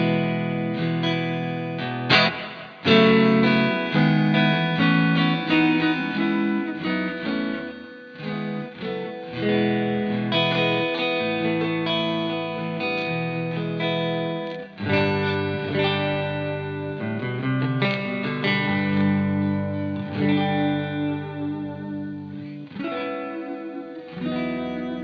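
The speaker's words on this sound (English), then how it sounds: "turn on my mono shimmer Seraphim reverb from Neunaber, and this is what that sounds like with reverb" Electric guitar played through a Neunaber Seraphim mono shimmer reverb pedal into a Hughes & Kettner Nano Spirit of Rock, dense sustained chords with a bright, washy shimmer tail, loud and continuous with no talking.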